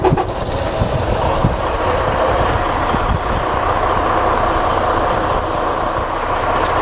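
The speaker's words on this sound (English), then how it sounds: "At that time, you can go ahead and start up your vehicle." A Class A truck's diesel engine turns over and settles into a loud, steady rumble from inside the cab during a pre-trip inspection, continuous throughout with no voices.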